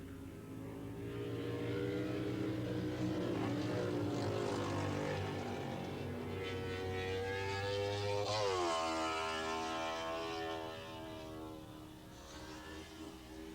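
Racing motorcycles in a 1987 AFM 450 modified production race at Willow Springs Raceway, a loud sustained engine roar that rises and falls in pitch as the bikes pass, steady and fairly near.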